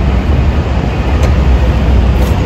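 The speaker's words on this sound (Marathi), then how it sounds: "इथे आता मेट्रो येईल" Metro train at BKC metro station in Mumbai, a loud, constant rumbling roar of the train with heavy low-frequency drone and steady hiss throughout.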